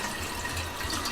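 Cold water from the fridge poured into a hookah base, a brief steady gushing, splashing fill heard up close with no talking.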